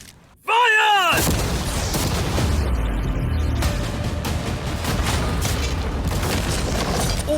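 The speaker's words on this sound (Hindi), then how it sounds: "अब हम तुम्हारी नई यॉट पर कैनन्स को शूट करने वाले हैं" Cannons fire at a new yacht, opening with a sharp blast that gives way to a loud, sustained roar of impacts and debris tearing through storage containers. Excited voices talk and shout over the din.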